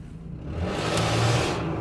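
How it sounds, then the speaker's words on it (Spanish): A Nissan engine, checked for a clogged catalytic converter, revs up from idle, the close engine note rising steadily into a stronger, sustained roar without any talk. "Ahora sí el motor se responde."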